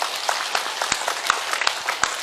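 Applause from a village audience at a humorous Islamic sermon, a steady wash of many hands clapping at moderate distance throughout, with no voices over it.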